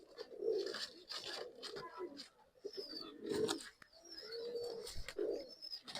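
Pigeons, breeding birds at a pigeon sale in Bangalore, coo in repeated, close, throaty bursts, with soft chirps and bird calls around them.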